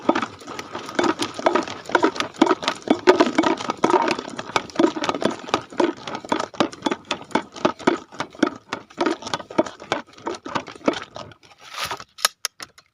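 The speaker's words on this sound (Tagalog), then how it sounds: "Alugin po natin yung ating sprayer para ma-mix natin yung sa loob." A knapsack sprayer partly filled with herbicide mix is shaken by hand, giving rapid rhythmic sloshing and plastic rattles, close up and repeated for several seconds before stopping.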